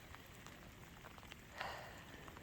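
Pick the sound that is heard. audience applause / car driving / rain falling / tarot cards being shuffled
rain falling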